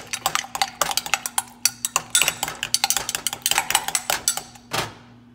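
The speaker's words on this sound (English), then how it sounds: "I'm going to do is going to go ahead and stir it up" Egg mix stirred briskly in a bowl, a rapid run of close, loud clinks and taps of a utensil against the bowl, ending with one heavier knock, with a faint steady hum behind.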